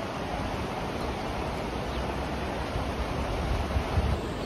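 The Passer river (Passiria) rushes through Merano in a steady, dense broadband wash of flowing water, continuous and fairly loud with no voices.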